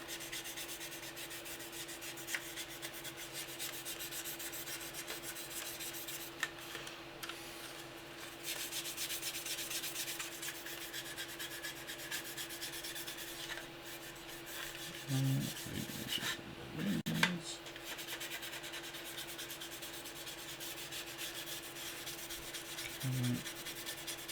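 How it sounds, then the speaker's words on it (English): Light dry sanding over a grimy, weathered scale model surface, a soft steady rubbing that runs quietly throughout, with a few brief louder scrapes or handling knocks near the end. "if you've got some areas and you want to take them off because they're a bit grimy and the wash isn't coming off too well, just lightly sand right over it"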